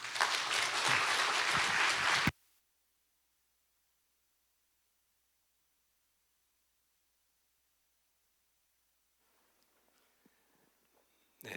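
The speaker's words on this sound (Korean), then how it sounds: "우리 목사님 모실 때 큰 박수로 모시겠습니다" A church congregation at a 20th-anniversary revival meeting claps loudly for the pastor in a dense burst of about two seconds, which then cuts off to near silence.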